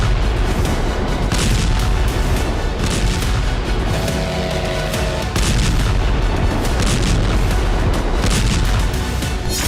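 Heavy booms and rumbling blasts from the bombing of Russian cities roll on continuously, loud and dense, with sharp bursts punctuating a constant low roar.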